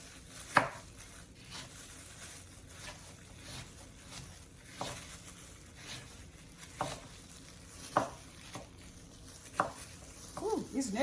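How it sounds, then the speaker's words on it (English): A knife chops apples on a board during juice and smoothie prep, after carrots, celery and cucumbers were cut; sharp scattered knocks sound several times over faint background noise, with a brief clatter near the end. "these are apples that I'm cutting up"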